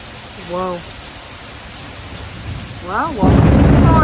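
Thunder and rain in a thunderstorm, a steady rain hiss with low rumbles building and a loud close crack near the end, while a couple of short voiced exclamations are heard.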